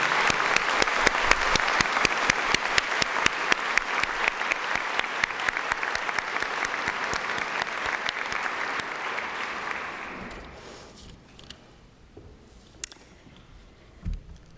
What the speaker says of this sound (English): So I'd like to give you a round of applause for all that you have done.